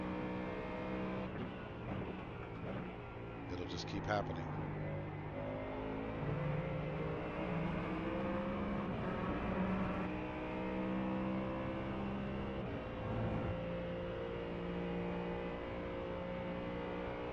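A Mustang GT3 race car at Watkins Glen in iRacing, with a naturally aspirated V8-type engine droning and revving continuously, shifting pitch throughout, loud and steady, with a brief spoken line near the start.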